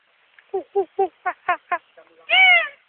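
A person's voice imitates a monkey call: a run of six or seven short, rhythmic hoots followed by one longer, higher sustained cry, close and clear.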